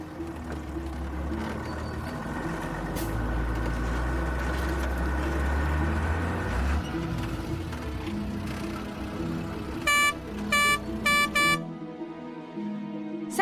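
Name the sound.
water tanker lorry arriving, honking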